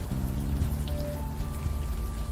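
Steady rain falls in the video game Unavowed, a dense continuous patter with a low hum beneath it, even and unbroken throughout.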